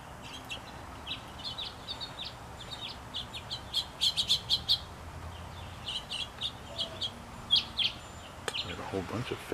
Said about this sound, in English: Look like they're all house finches.